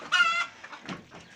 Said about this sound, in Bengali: এটা হলো ফার্মি লেয়ার মুরগির বাচ্চা